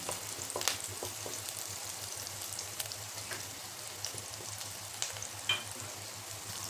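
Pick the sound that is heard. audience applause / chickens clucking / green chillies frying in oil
green chillies frying in oil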